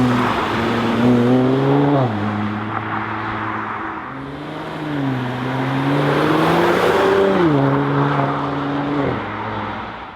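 The AMG exhaust of a 2016 Mercedes C450 AMG V6 sedan roars loud and close, its engine note climbing and dropping several times as it revs and pulls, with no voices.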